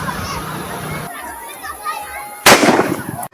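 Firecrackers go off at a crowded riverside ghat during Chhath Puja, with one loud sharp burst late in the clip amid voices and a noisy crowd.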